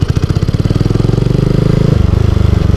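Motorcycle engine revving as the throttle opens after the clutch is let out, a loud, close, steady pulsing that drops in pitch partway through with a gear change.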